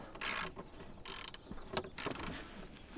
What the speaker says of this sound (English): unscrew our drain plug. It's a 10mm hex socket